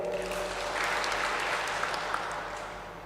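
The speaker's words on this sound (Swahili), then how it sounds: "Nĩ wĩra mwega, tuapigie makofi." A church congregation at a Presbyterian Sunday service claps steadily together, a dense and continuous round of applause that carries through to the end.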